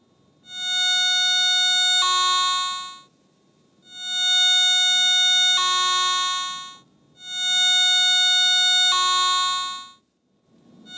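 Three loud, sustained electronic tones from a Garrett ATX metal detector signalling a large or strong target, each a couple of seconds long and stepping in pitch partway through, separated by short silences.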